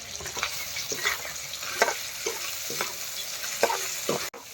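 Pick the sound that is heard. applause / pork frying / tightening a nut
pork frying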